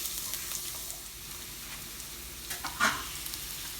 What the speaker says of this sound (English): sauteing my onions a little till they turn a little brown